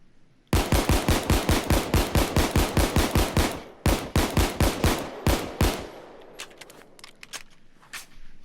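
Rapid bursts of M1911 Crosskill pistol fire in Payday 2, loud close shots in two long strings of quick, evenly spaced reports, the second string shorter, then a pause and scattered faint clicks and mechanical handling sounds.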